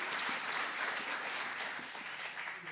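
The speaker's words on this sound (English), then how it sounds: "let's give them a hand" Local audience at a 25th-anniversary coffeehouse music celebration applauds steadily, a dense wash of many hands clapping that fades slightly toward the end.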